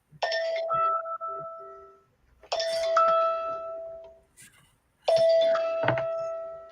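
Three separate bell-like chimes ring out clearly with pauses between them, each ding fading slowly, alone and fairly close.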